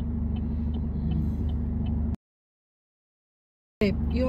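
Steady low road rumble of cars passing on a road, heard continuously, then cut off abruptly into silence before resuming near the end.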